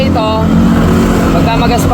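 A 2018 motorcycle's electric starter with a worn bendix gives off a loud, rough mechanical grinding whir close by. It sounds continuous and engine-like, with a person talking over it.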